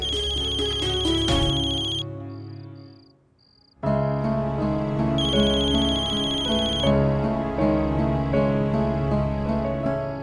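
A telephone ringtone plays loudly in a Hindi TV drama scene, an electronic ringing melody that pauses briefly, then resumes with a bright repeating tone and no talk over it.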